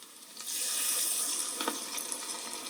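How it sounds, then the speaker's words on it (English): Shaoxing Hua Tiao dry cooking wine splashed into a hot pan with browning beef in an Instant Pot, a sudden bright hiss and sizzle that swells and then settles into a steady fizz, close and without talk. "I'm going to add some cooking wine. Shaoxing Hua Tiao."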